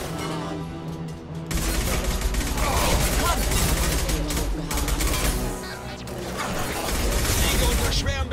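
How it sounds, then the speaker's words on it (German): Sustained heavy gunfire and explosions from the sci-fi video game Mass Effect 2 fill the clip, with dense overlapping shots and booms over a backing score, loud and continuous. "Siege unter schwerem Beschuss."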